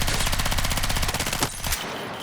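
Rapid submachine gun fire at a Battlefield 6 firing range in the video game, a loud sustained automatic burst of evenly spaced shots for about a second and a half, then a brief trailing shot and fading echo.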